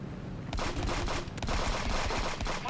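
Gunfire from a turret in the video game Friends vs Friends comes as a rapid, continuous rattle of shots, dense and fairly loud, with no voices.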